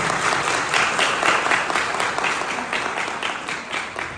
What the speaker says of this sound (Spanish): Les pido por favor un fuerte aplauso para él.